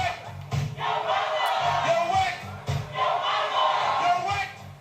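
A festive crowd at a poetry birthday celebration shouts back loudly in call and response, with two big roaring bursts answering a leader's prompts.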